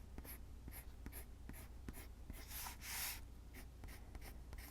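Pencil drawing on paper for a fantasy doodle gem and peacock feather, a steady run of soft scratchy strokes close up with a brief louder rub partway through, no talking.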